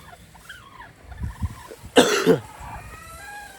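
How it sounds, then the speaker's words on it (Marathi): A person coughs once, a sharp, close burst with a short rasping tail, followed by quiet breathing and faint background noise. "खोकला लागतोय मला"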